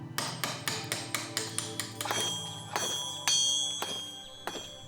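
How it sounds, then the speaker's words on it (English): Stonemasons on the Acropolis chiselling marble blocks for the Parthenon, with sharp ringing metallic strikes of hammer on chisel in a steady rhythm, then irregular overlapping blows, close and clear. "New pieces for the Parthenon are chiselled from the blocks with utmost precision."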